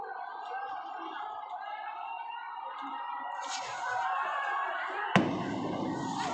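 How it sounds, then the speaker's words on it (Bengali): During a student-police clash at a non-cooperation protest in Kushtia, a single sharp bang from tear gas shells or gunfire rings out near the end against a steady background of murmur and noise. "তারা একের পর এক গুলি নিক্ষেপ করছে এবং টিয়ার শেল নিক্ষেপ করছে"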